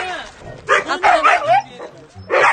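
Close, loud barking and yipping from a husky dog comes in several bursts, mixed with people talking nearby.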